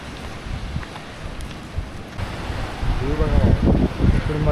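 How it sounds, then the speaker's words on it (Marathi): Light rain and a rising tide at the seashore beside a fort, a broad windy wash of surf and drizzle, growing louder toward the end, with a voice speaking over it. "हे इकडे आत्ता यायला लागलं पाऊस बारीक बारीक पडतोय आणि इकडे पाणी वाढत चाललं"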